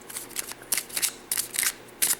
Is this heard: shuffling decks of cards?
yes